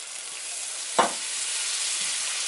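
Swedish meatball gravy is stirred in a pan over a soft, steady sizzle. A single brief scrape of the utensil stands out near the middle, with no talking.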